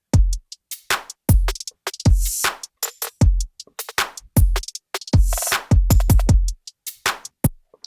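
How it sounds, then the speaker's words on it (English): A stock Apple Loops drum loop with hi-hat in a Christian pop production, heard alone as a loud, punchy pattern of steady kicks and crisp cymbal hits over about eight seconds. "Then once we get to the chorus, we do get this hi-hat right here."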